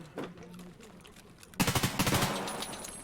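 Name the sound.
gunfire in the video game Escape from Tarkov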